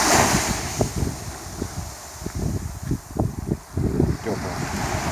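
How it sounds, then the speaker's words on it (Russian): Steady wind blowing across a sunny Mediterranean beach in Alanya, Turkey on an October morning, a continuous broadband rush with gusty surges and rumbling buffets on the microphone, mixed with faint surf. "Очень хороший ветерок. Обдувает."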